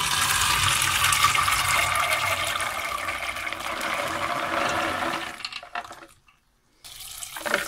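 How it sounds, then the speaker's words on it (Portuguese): Hot water pouring into a container to soak small beans, a loud continuous splashing rush that runs for about five seconds, then cuts out into near silence before a little more water noise returns. "Vou botar a água já quente aqui para facilitar o processo."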